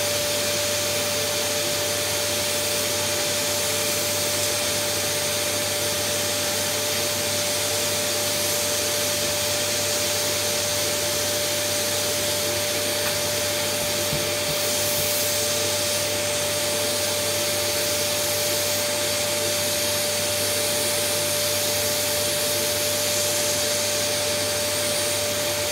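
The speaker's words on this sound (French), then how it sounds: "C'est un tube de plexi que j'ai chauffé. Et voilà, ça me permet donc d'aspirer tranquillement." Steady vacuum suction drawn through a heated plexiglass tube while cleaning a front camera lens, a loud constant whooshing roar with a fixed tonal whine that runs unbroken from start to finish.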